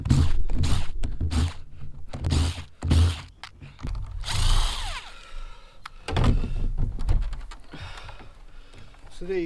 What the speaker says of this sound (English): I've now got all my holes pre-drilled